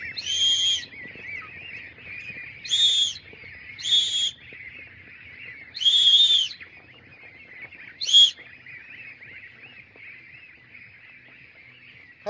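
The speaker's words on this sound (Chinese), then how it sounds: "直接一吹哨全都回去了" A shrill whistle is blown to call a flock of geese back to their pen, five short high blasts spaced a second or two apart over quiet farmyard background.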